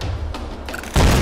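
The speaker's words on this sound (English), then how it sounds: "Grenade." A grenade goes off in Tomb Raider Definitive Edition as a sudden loud, broadband boom that follows a stretch of muffled combat noise and holds dense and close for the last few tenths of a second.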